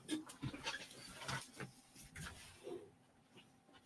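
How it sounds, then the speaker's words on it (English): A dog pants and lets out a short whimper, fairly quiet, with breathy bursts early on and a brief whine near the end. "hang on, the dog's going crazy."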